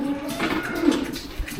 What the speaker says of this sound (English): the cows are starting to roar now